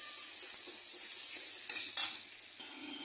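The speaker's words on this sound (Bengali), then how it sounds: "করে আমি এটাকে কন্টিনিউ এইভাবে নাড়ছি।" Chicken mince and potatoes frying in a pan, a loud close hiss of sizzling oil broken by a few sharp stirring scrapes that fade toward the end, with no talk.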